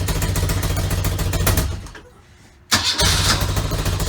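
A 1983 BMW R65 motorcycle engine starts and runs rough and lumpy, loud and close, with a brief quieter lull before it surges back to a steady uneven idle.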